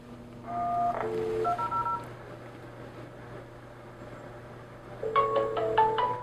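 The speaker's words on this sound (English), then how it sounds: "I use the call button." An AddPac video door phone plays its call-button tones: a quick run of distinct electronic beeps, a pause, then another cluster of higher beeps, close and clear over a faint steady hum.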